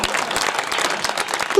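Listeners at a devotional kirtan clap in quick sharp bursts with a loose, fairly regular beat, close and fairly loud throughout.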